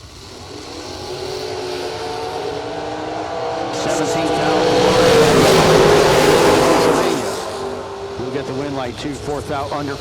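A '55 Chevrolet Bel Air and other drag race cars roar through a pass, the engine noise building to a loud peak midway and then fading, with an announcer talking over it throughout.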